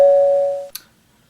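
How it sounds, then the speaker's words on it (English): Doorbell chime holding one bright electronic tone for most of a second, fading out, followed by a short sharp click, loud and close. "Doorbell."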